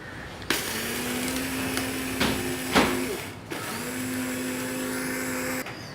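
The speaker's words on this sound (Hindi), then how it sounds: "अब इसको ग्राइंड कर लेंगे।" An electric kitchen grinder whirs loudly, grinding sugar and cornflour into icing sugar, running in two long bursts with a brief pause between and clicks at the starts and stops.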